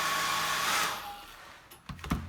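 A hair dryer on low setting, used while peeling masking from a painting, whooshes steadily, then winds down and switches off, followed by a few close clicks and handling knocks.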